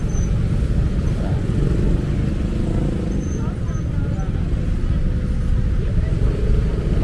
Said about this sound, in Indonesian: Nah, ini macet karena nih angkot-angkot gini ya yang ngetem ya